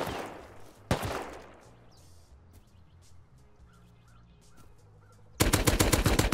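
Gunfire in the survival game Rust: a couple of loud, close shots open the clip, then a quiet stretch, then a dense, rapid burst of automatic fire that runs to the end.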